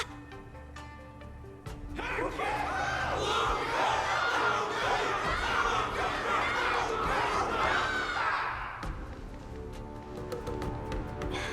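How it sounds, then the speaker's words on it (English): A large video game crowd in Honkai: Star Rail roars and cheers continuously for several seconds, a dense wall of shouting voices that swells, then drops away to quieter background sound. "Everyone's cheering for you, Luka."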